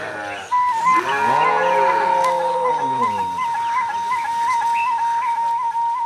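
Horned cattle in Rwanda give a long, loud, drawn-out moo close by, its pitch rising and falling, while a steady high whistle-like tone runs underneath.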